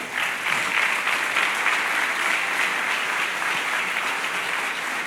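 A church congregation claps steadily throughout a worship service, a dense, sustained round of applause that holds at a fairly even loudness for about five seconds without talk.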